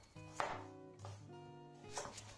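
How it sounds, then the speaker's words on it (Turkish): Peeled potatoes being sliced into large chunks with a knife for crispy fried potatoes, giving a few close, distinct chopping thuds at a steady pace with a faint tonal background. "3 adet patatesi soyuyorum ve iri iri dilimleyip tencereye alıyorum."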